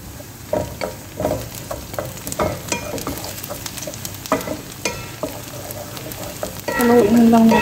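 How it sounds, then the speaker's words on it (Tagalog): Onion and garlic are stirred as they fry in a pan for bitter gourd with egg, with irregular close scraping strokes over a continuous sizzle, and a voice joining near the end. "Haluin lang natin siya guys para hindi po masunog yung ating sibuyas at bawang"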